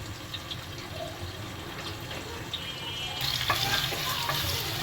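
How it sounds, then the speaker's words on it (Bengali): Onion and garlic frying in a pan until brown for a mutton leg biryani, a steady close sizzle with occasional stirring scrapes, growing slightly louder and busier near the end, with no talking. "পেঁয়াজ রসুনটা ব্রাউন শেপ করে ভেজে নিচ্ছি।"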